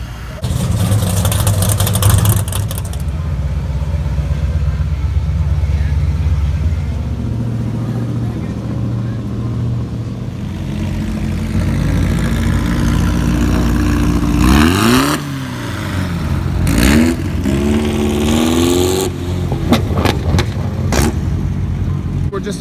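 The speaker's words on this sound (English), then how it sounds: "One rolled up in a Lamborghini Diablo." A Lamborghini Diablo rolls in at a Seacoast Cars and Coffee meet in New Hampshire, its engine humming steadily and then revving in sharp rising bursts near the end, with voices in the background.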